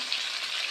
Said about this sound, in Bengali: ফুলকপিগুলো আমি খুব ভালো করে ভেজে নেব বন্ধুরা।